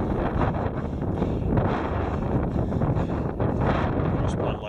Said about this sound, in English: today the wind feels absolutely glorious